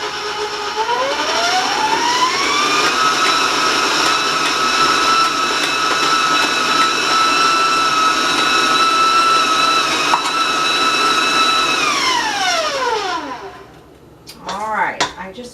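An electric mixer beats cake batter for a chocolate almond oatmeal cake. A steady motor whine ramps up, holds for about ten seconds, then winds down, followed by a few clattering bumps.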